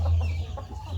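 A Madrasi Blorok village rooster clucking close by, a short burst of low, throaty clucks.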